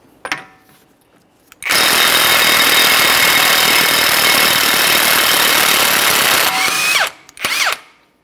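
A loud, sustained whir of an impact gun removing the front axle nut on a 2011-2020 Toyota Sienna, running steadily for several seconds, starting abruptly and cutting off, with brief tool bursts after.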